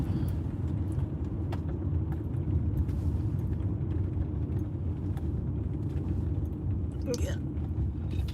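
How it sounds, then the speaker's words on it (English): Steady low road rumble of cars passing on a street, continuous and fairly close, with a faint higher whine near the end and children's voices faintly under it. "There's cars coming."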